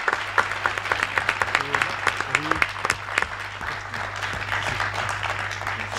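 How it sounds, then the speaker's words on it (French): Audience applause at a French comedy and animation stage event, with close, sharp claps over a crowd ovation, a low hum and brief voices underneath. "Tonnerre d'applaudissements."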